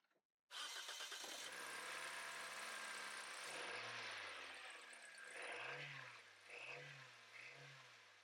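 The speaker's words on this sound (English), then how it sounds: "I check the car, it is starting." A Toyota Corolla engine cranks and catches after a starter motor replacement, then settles into a steady idle with a few brief revs toward the end.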